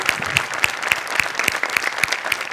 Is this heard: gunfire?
no